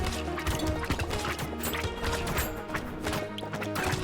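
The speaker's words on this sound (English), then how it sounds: "Wow, the explosions are huge." Explosions in the video game Brotato come as a dense, rapid, overlapping string of crunchy booms and impacts. They keep on without a break over busy game audio for the whole stretch.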